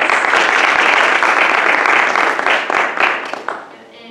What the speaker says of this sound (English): So if we can give them a short round of applause